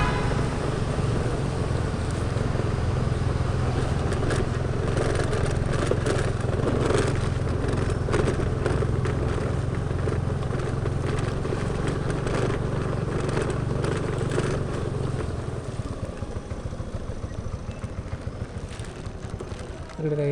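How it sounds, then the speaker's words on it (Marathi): Vehicles passing along a small-town market street near a bus stand in rainy Konkan weather, a steady loud rumble of traffic and engine noise with rain-like wash throughout, easing slightly near the end. "इकडे काही गाड्या लागल्या आता."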